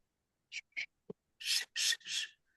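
Children's voices imitate autumn leaves rustling underfoot with three drawn-out, breathy shushing sounds in quick succession, preceded by a few short soft vocal bursts, close and clear against silence.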